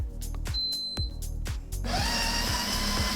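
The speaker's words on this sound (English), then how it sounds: "And then we're going to start our grind." Built-in grinder of a Ninja Luxe Cafe coffee maker grinding espresso beans, starting with a few short clicks and whirs before settling into a steady, loud, close grinding whir with no talk.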